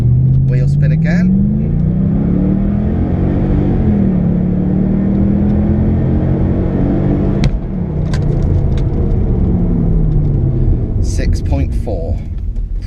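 A V8 Mercedes CLK launches hard with wheel spin, its engine roaring close and rising through the gears with a shift drop midway, while a person talks briefly inside the cabin.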